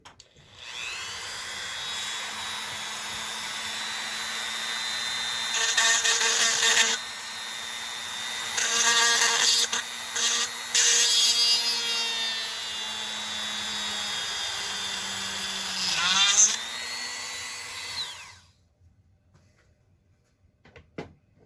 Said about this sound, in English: I figured I'd drill the hole for the necklace to attach to